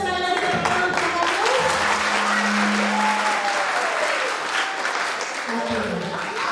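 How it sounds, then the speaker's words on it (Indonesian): An audience at a church youth Easter camp claps, with sustained applause mixed with voices and calls nearby. "Sekali lagi tepuk tangan"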